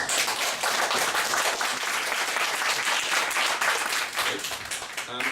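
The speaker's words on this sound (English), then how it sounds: "Big applause, please." Audience applause at a Go programming meetup, a dense, steady wash of many hands clapping close by that fills the whole stretch at an even loudness and thins slightly near the end.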